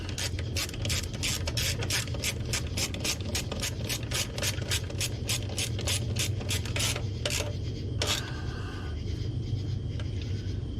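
Hand ratchet clicks in a quick, steady series of sharp pawl ticks while muffler bolts are tightened on a Honda Helix scooter, close up over a constant low background hum, ending with a couple of slower clicks.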